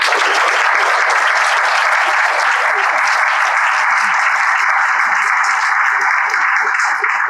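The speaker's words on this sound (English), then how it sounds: "Let's get a round of applause before we do it." A lecture audience at a talk on LGBTQ+ history in London gives loud, sustained applause, a dense, even wash of clapping that carries on unbroken throughout.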